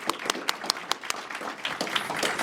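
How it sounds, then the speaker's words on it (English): Sparse, fairly quiet clapping from a small audience at an intimate National Honor Society induction ceremony, a few distinct claps at first that thicken into a light patter. "let's give them a round of applause."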